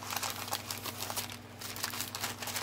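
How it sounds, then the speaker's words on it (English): Brightly dyed craft papers crinkling as they are handled, a steady close rustle of crisp crackles that continues throughout with only a brief softer moment in the middle. "That's like my favorite sound in the world. Crinkly dyed papers."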